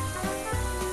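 A soft, steady sizzle and faint crackle of glutinous rice flour waffle batter cooking in a waffle iron, continuous and close, with no talking.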